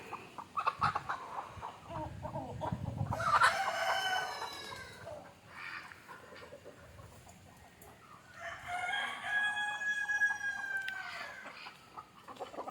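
A rooster crows twice among country chickens clucking nearby, the crows standing out loud and drawn-out over a murmuring flock.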